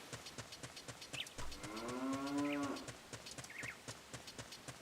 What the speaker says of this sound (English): anytime you hear a cow randomly, that means that there is either a building or a secret grotto with a cow in it